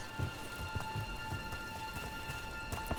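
Steady rain pours down in Dragon Age: The Veilguard, a dense, even hiss of drops spattering on surfaces with soft low thumps scattered through, continuous and moderately loud with no voices.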